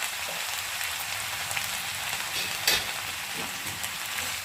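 Fish chachchari with salt, turmeric and chilli being stirred in a pan, a constant close sizzle like light rain with occasional scrapes of the spatula.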